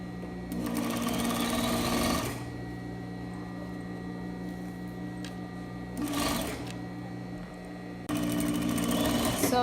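Sewing machine stitching a waistband at a half-inch seam, with three loud bursts of rapid mechanical whirring separated by quieter pauses against a steady background hum.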